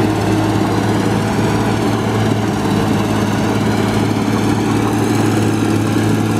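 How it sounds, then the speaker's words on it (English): A smoking engine with an exhaust leak idles loudly and close, giving a steady, rough drone with a constant low throb and no pauses. "We got an exhaust leak on that thing."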